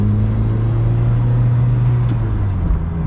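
A Vauxhall Cavalier Mk2 with an SRi130 engine runs on a test drive, giving a loud, steady low drone from close inside the car, with no talking over it.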